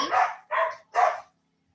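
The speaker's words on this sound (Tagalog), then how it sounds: "ang ingay ng mga aso" Dogs bark nearby in three quick, loud barks in a row, then fall silent, with no other sound around them.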